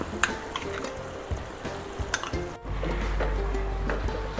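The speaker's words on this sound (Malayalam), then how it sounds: "വറുത്തരച്ച പേസ്റ്റ് ഇട്ട് കൊടുത്ത് നല്ലപോലെ ഇളക്കാം" A spoon stirs roasted ground paste into a simmering tamarind curry of turkey berries, with scraping clinks against the pot over a soft bubbling sizzle, then a steadier low simmer after a brief pause.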